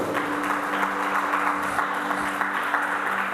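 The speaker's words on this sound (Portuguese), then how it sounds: "Vamos aplaudir o nome do Senhor." A church congregation applauds in praise of the Lord during a service, a steady, even wash of clapping that goes on throughout, with a faint sustained tone running beneath it.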